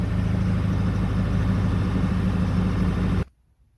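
Ford 7.3L Powerstroke diesel engine idling while not yet fully warmed up, a loud, close, steady low rumble with a regular clattering pulse that runs alone and then cuts off abruptly near the end.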